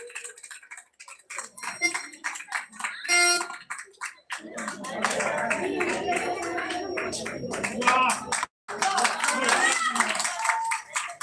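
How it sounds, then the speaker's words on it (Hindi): Loud, sustained applause from an audience at a live Indian wedding gathering during the varmala ceremony, honoring a pandit. It starts after a few seconds and keeps going steadily under someone talking over it. "जोरदार ताली बजाइए"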